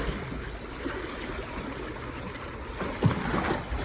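A river whirlpool on the Mississippi swirls around a canoe, a steady broad rush of moving water with a faint splash near the end and no talking.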